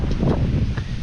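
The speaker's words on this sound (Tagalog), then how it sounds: "napakalakas ng hangin dito" A strong gust sweeps across a wide open three-hectare lot, a heavy, rumbling roar of wind battering the microphone without pause for the whole moment.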